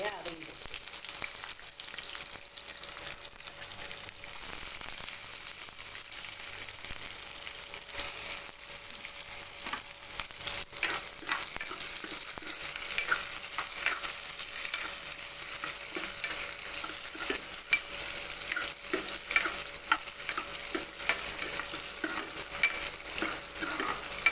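Garlic and sliced big onions fry in a pan after mustard seeds have popped, for a tamarind kuzhambu. The sizzle is steady and moderately quiet, with repeated scraping stirs that grow busier over time. No voice is heard.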